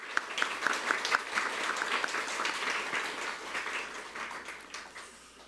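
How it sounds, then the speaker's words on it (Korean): A crowd applauds steadily for several seconds, a dense patter of many hands clapping at moderate volume. "다시 한번 감사의 박수 드리겠습니다."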